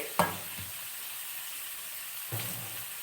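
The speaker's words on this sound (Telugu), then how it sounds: "ఇలా బ్రౌన్ కలర్ వచ్చే వరకు వేయించాలి" Chopped onions fry in a pan for an ivy gourd curry, giving a faint, steady sizzle with two soft clanks of a utensil against the pan.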